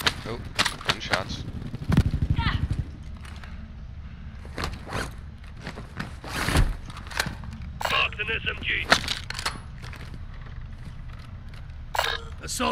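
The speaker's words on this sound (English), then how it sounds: "Oh, gunshots." Sharp, loud video game gunshots, including SMG and assault rifle fire, crack in bursts and single shots, some close and some further off, with people talking over and between them.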